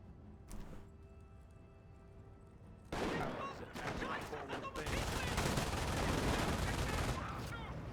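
Rifle volley from infantry squads in Company of Heroes 1, a British versus Wehrmacht battle: a sharp early crack, then dense overlapping gunfire building into a sustained roar of shots and battle noise, with faint talk underneath.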